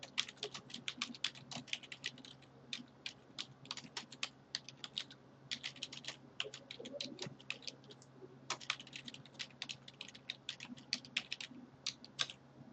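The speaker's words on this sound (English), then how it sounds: "this is where I can start typing in a description of my topic" Rapid, irregular clicking of keys on a computer keyboard, quiet and close, in bursts with brief pauses and no talking.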